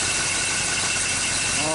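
A 1965 Chevrolet engine idles close by, a loud, continuous, even rumble with no breaks.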